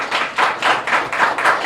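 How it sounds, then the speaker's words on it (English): Audience applause at the close of a podcast interview, a steady wash of many hands clapping that swells in a few waves over under two seconds, with no talking. "Everyone, give her a big round of applause."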